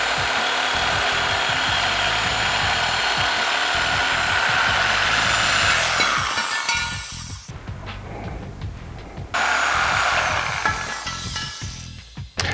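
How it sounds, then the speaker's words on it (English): A reciprocating saw cuts through the steel front frame horns of a Jeep Wrangler JK during a bumper install, giving a loud, steady buzzing grind that drops briefly midway and then resumes before cutting off near the end. "Now you're going to grab your sawzall and cut straight down the line that we just drew."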